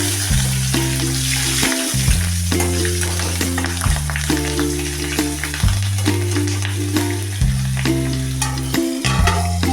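Slit green chillies hit hot oil in a pan with a hilsa fish head, a steady loud sizzle and crackle running throughout with occasional stirring clatter, close and without talk.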